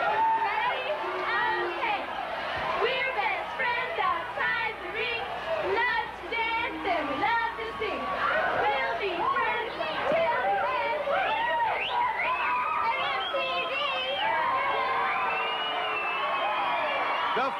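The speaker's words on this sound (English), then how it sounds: "A cheer from the cheerleaders." Cheerleaders at a GLOW women's wrestling event chant and shout in a lively, rhythmic cheer, many voices rising and falling together over crowd noise, fairly distant and sustained.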